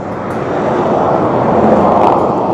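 A big truck roars past on a long national road in Thailand, a loud, steady broadband rumble that builds and holds close by throughout, heard from a cyclist's position at the roadside.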